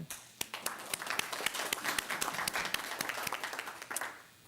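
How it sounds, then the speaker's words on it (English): A small group at a town council meeting claps in applause, a steady patter of hands heard from a little distance, fairly soft overall. "just a round of applause for Michael."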